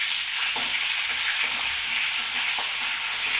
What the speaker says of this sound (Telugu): అల్లం వెల్లిపాయ పేస్ట్ కొంచెం ఉడకనివ్వాలి.